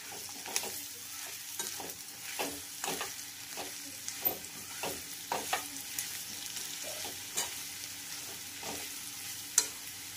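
Eggplant curry with salt frying in a pan while being mixed, a soft, faint sizzle broken by regular scraping strokes of a spoon against the pan, about one stir each half second.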